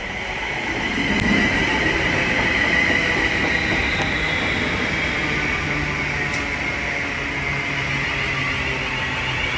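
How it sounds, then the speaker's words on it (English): A London Northwestern Railway Class 350 electric train pulls away from Bletchley station on the West Coast Main Line. A loud, continuous traction whine and wheel rumble fill the whole stretch, with a steady high-pitched electrical tone. "The 1402 London Northwestern Railway service from Milton Keynes Central to London Euston is now departing"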